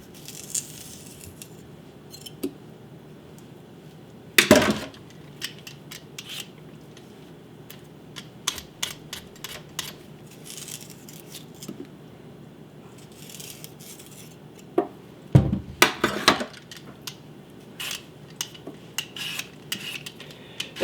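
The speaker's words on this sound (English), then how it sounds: "this potato peeler makes it so easy to peel these potatoes" Potatoes being peeled by hand with a potato peeler in a home kitchen: soft scraping strokes come close and at irregular intervals, broken up by a few louder knocks and clatters, with no talking.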